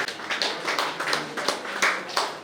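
Small-audience applause for a prize winner at a JCI Puttur awards event, a brief patter of scattered hand claps, fairly quiet and slightly distant, with no talk over it.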